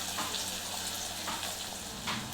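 Mint leaves sizzle and fry in oil in a pan while making village-style Telangana country chicken curry, a steady close crackle with a few soft stirring scrapes and no talking.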